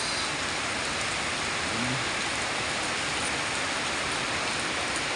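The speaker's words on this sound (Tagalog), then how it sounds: "tuloy tuloy po yung ulan sana tumigil na to" Dense, unbroken hiss of heavy typhoon rain pours down throughout, steady and loud with no voices or pauses.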